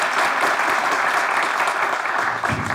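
Dense, steady applause fills a comedy show audience from start to finish, loud and close, with a slight dip and swell near the end.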